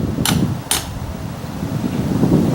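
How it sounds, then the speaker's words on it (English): Two sharp hammer blows strike a hole punch set on a knife handle over a hard surface, landing close together near the start, followed by a low steady background rumble. "you basically just smack it with a hammer"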